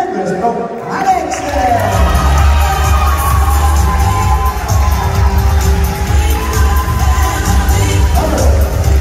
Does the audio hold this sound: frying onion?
no